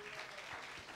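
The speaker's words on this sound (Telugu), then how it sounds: "కొట్టు చప్పట్లు గట్టిగా." Loud audience applause with steady clapping fills a church gathering during a sermon on the Book of Revelation, a dense continuous wash of hands.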